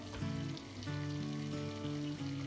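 Mint leaves sizzle in hot oil in a pan, a steady, close crackling fry with no talk over it.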